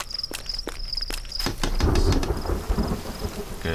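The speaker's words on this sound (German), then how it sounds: "Gewitter." A thunderstorm in the video game The Forest: sharp crackles and rain patter give way to a heavy rolling thunder rumble that swells and lingers under steady rainfall, without any talking.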